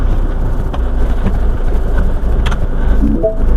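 Heard from inside, a Mini Cooper drives along with a loud, steady low engine and road rumble throughout.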